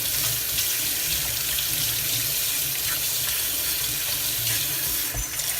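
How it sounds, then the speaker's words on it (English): A kitchen sink tap runs full, pouring a loud, continuous hissing stream of water that barely varies from start to finish, with no talking over it. "I wanted to let the water run first."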